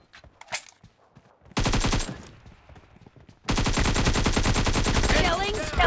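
Loud rapid automatic gunfire from the mobile shooter BGMI (PUBG Mobile) in two long bursts, the second running to the end, with a few scattered shots and quieter game sounds before them.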